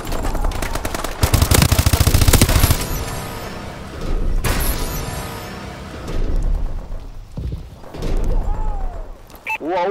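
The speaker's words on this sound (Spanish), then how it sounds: "Me están disparando." Call of Duty: Advanced Warfare multiplayer gunfire, with loud rapid automatic bursts and single shots near and far, broken by short lulls and faint game voice announcements.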